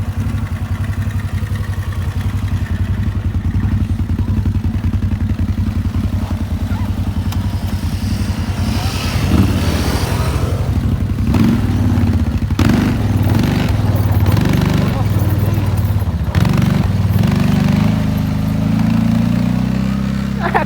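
A motor vehicle engine roars under hard throttle in a park, a loud sustained rumble that climbs in pitch in the second half, with clattering and brief voices around it.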